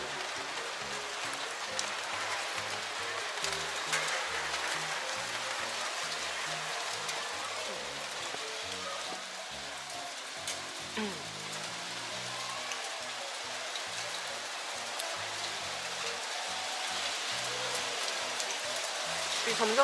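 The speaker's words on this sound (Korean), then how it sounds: "지금 소나기야." A summer rain shower falls steadily in Plovdiv, Bulgaria, a soft, even patter heard from a sheltered spot, moderately close and continuous, with no talking.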